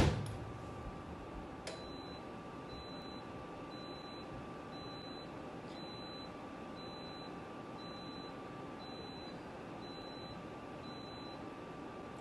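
A short electronic beep from a Dreo DR-HSH001 space heater's tip-over alarm, knocked over while running, repeats steadily about every half second, ten or so times, clear and close over a faint steady hum.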